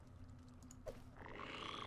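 Giant frogs croak in the fantasy role-playing game Pathfinder Kingmaker, giving a faint, low croaking over a dim game soundscape, with a brighter swell of noise rising toward the end.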